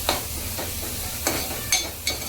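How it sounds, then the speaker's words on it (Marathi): Green coconut masala paste fries in hot oil for a clam curry, giving a steady close sizzle broken by four quick scraping stirs of a spoon at uneven intervals. "याला मस्तपैकी परतून घ्यायचं आहे तेलावरती"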